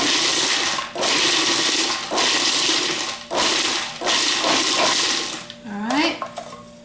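A blender blitzes pecan pesto in several loud, short bursts separated by brief pauses, followed by a quick rattle and clink of kitchen utensils.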